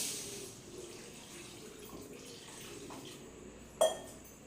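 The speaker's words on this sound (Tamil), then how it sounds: "அப்புறம் கொஞ்சம் நம்ம தண்ணி சேர்த்துக்கணும்" Water pours steadily into a cooking pan of egg gravy, a soft continuous hiss at low volume, ending with a brief sharp clink.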